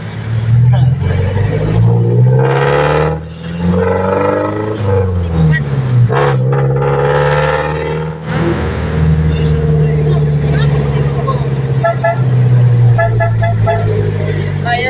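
A jeepney engine rumbles in traffic with shifting pitch as it revs and slows, and a horn honks in short toots, loud and close, with people talking over it throughout.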